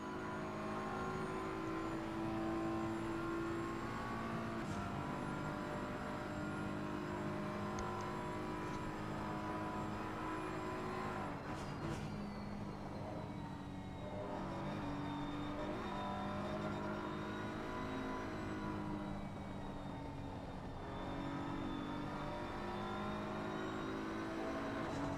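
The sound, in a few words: BMW GT3 race car engine at Watkins Glen, Assetto Corsa Competizione video game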